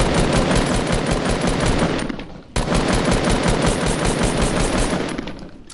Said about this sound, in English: I'm about to kill this dude. I'm gonna shoot down.